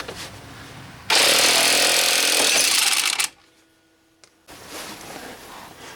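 An impact wrench hammers at a rust-welded lower ball joint on a 2003 GMC Sierra or Chevrolet Silverado 2500 in one loud, close, roughly two-second rattling burst, then cuts to near silence before a quieter background returns.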